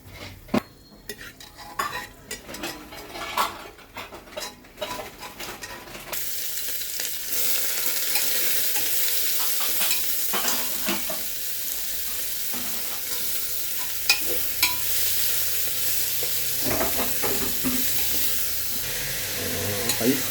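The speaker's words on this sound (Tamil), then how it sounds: "ஹை ஃப்ளேமில் வச்சு வெங்காயம் நல்லா பொன்னிறமாக வர வரைக்கும் வதக்கிடலாம்" Onions sauté over a high flame for biryani, beginning with scattered utensil knocks and stirring before a loud, steady sizzle takes over and continues to the end, with occasional scrapes of a spoon against the pan.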